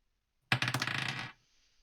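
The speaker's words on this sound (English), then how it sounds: "Dice, why do you fail me?" Dice rattle and tumble across a table during a tabletop roleplaying game session, a sudden loud clatter of rapid impacts that quickly settles and stops, followed by silence.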